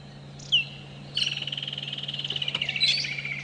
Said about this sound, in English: Now that's a beautiful call, that bird, everyone.